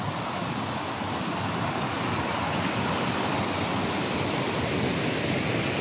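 A strong stream current rushes loudly and continuously, a dense broadband roar of moving water close by that stays steady and alone throughout.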